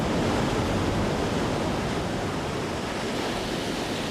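Large ocean waves over three metres high breaking hard against the rocks of Ilha Anchieta, a continuous loud roar of surf with no talk.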